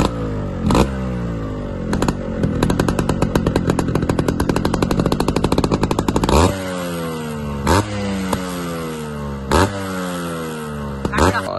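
A Yamaha RX Tiger two-stroke motorcycle engine revs up hard in quick rising bursts, then settles into a loud, rapid, rattly idle with occasional throttle blips, close by and with no talk over it.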